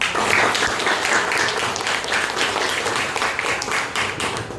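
A high school classroom bursts into applause for a correct answer, many hands clapping in a dense, sustained patter that stays loud and close for several seconds before easing slightly.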